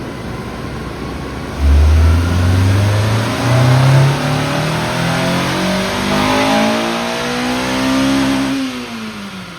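A stock 2005 Honda S2000 engine on a dyno climbs in one long, loud wide-open pull, pitch rising steadily through the gears toward a high-rpm wail before easing off near the end, with no talk.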